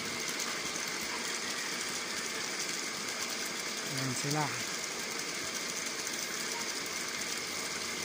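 A steady water pump engine drones and rattles throughout, with a person briefly speaking over the constant engine noise.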